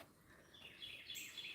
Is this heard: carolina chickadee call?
yes